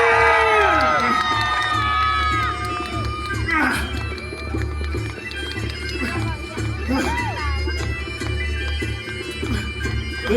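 Outdoor festival crowd cheers and claps during a kettlebell strongman show in Kyiv, loud shouts and whoops over steady crowd noise, with voices calling out throughout.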